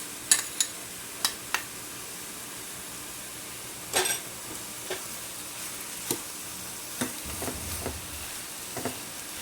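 A coconut and khoa mixture for burfi is stirred in a pan as it cooks, with a soft continuous sizzle under occasional sharp scraping clicks of the spoon against the pan, close and quiet, with no talking.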